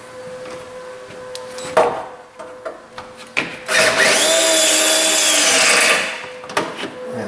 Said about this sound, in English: I'm just going to drill that rivet off.